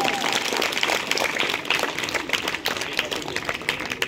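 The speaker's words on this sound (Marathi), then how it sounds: "जोरात टाळ्या. एकदम जोरात." A group claps loudly and steadily during a yoga practice session, dense fast applause filling the space close by with no pauses.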